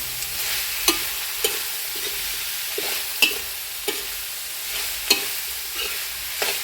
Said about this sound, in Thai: ผัดเผ็ดนะน้อง